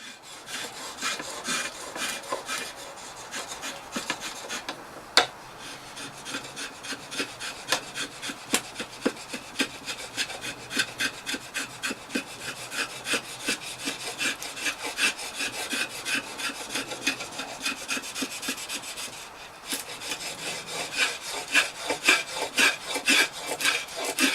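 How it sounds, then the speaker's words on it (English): A rasp files knotty wood on the grip section of a handmade English longbow, a continuous, steady scraping with rapid rhythmic strokes that runs close and loud almost throughout, briefly pausing twice. "The grip section had to be dealt with by rasp instead of by drawknife"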